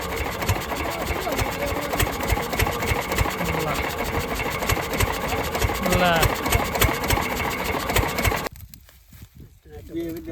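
A freshly repaired engine used for sugarcane work runs after starting, a rapid, even chugging beat close by with voices around it, before cutting out sharply near the end.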